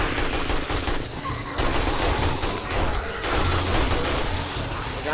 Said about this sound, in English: Yeah, I'm just aiming with the AK